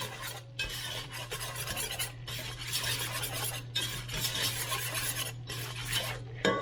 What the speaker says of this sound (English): And just keep whisking it.